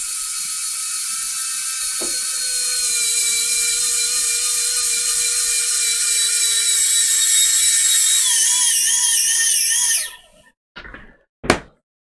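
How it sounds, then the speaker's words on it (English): Electric screwdriver driving small bolts into a tilt-and-swing model ship building and painting jig; a steady high whine lasting about ten seconds, then stopping with a few brief clicks and a sharp final burst. "And all we do is just screw these in."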